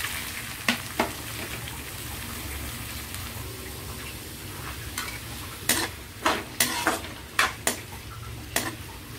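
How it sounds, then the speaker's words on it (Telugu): Onions and tempering spices fry in a kadai with a low continuous sizzle, punctuated by a series of sharp scraping and clinking strokes of a spoon stirring against the pan. "పోపు వేగుతుండగానే మనం ఉల్లిపాయలు వేసుకున్నామండి."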